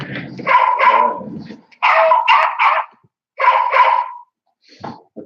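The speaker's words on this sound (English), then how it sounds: "I'll get a bunch of different dog sounds. That one's just called Bark." A recorded dog barks in three quick bursts of two or three barks each, loud and close and separated by short silences, with a faint yip at the end.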